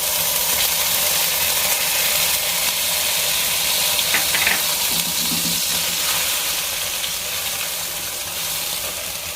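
Three spoons of flour frying in melted butter in a pan for a white pasta sauce, giving a continuous soft hissing sizzle with a few faint utensil taps partway through.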